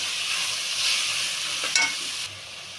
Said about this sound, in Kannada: ಸ್ವಲ್ಪ ಎಣ್ಣೆಯಲ್ಲಿ ಫ್ರೈ ಆಗುತ್ತೀನಿ